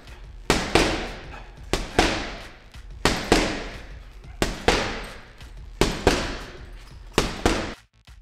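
Boxing gloves strike a heavy bag in quick pairs of left and right punches, each a sharp, close, loud thud followed by a brief pause before the next pair.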